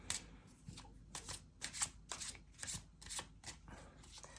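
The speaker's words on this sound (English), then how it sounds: "So let me pull another card for this Temperance and Eight of Swords to see." Tarot cards are shuffled and drawn by hand at close range, a steady run of crisp papery riffles and snaps repeating about every half second with no voices.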